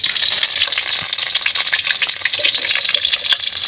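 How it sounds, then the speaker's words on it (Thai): Star gooseberry leaves deep-frying in hot oil, a loud, continuous crackling sizzle with bursts of bubbling close up, going on without talk. "ฟังเสียงฟังเสียง โอ้โห ใบมะยมทอดกรอบ"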